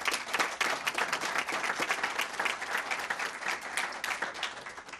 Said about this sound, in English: we want to recognize you with a round of applause as well